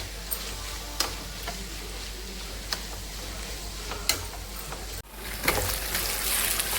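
Onions, green chillies, curry leaves and ginger-garlic paste frying in a pan for a fish curry, giving a steady close sizzle with a few sharp ticks and clinks of stirring, louder after a brief pause near the end; no talking.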